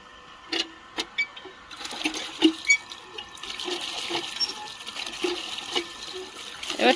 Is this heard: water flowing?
yes